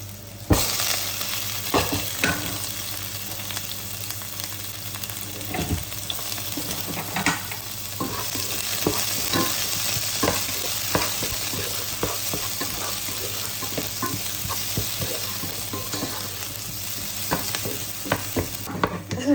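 Onion and chicken liver fry in a hot pan for chicken liver igado, a steady close sizzle with frequent scraping stirs and clinks of a utensil against the pan throughout.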